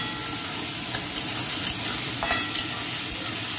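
Pointed gourd is stirred in a hot pan with turmeric and salt, giving a steady soft sizzle of frying broken by occasional scraping and clinking strokes of the spoon, close and continuous with no talk.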